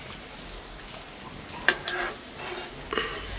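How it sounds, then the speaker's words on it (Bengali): Egg-coated lote fish chops fry in hot oil, a faint steady sizzle with small crackles and a few light clinks of handling close by, no talk. "বাকিগুলো আমি এভাবে ভেজে নিচ্ছি।"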